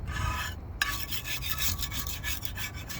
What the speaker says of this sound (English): I'm using this scraper to scrape it all off.